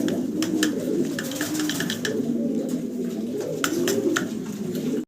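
Fancy Roman pigeons coo in repeated low, rolling phrases, close and steady, with scattered sharp clicks and rustles from the birds around them.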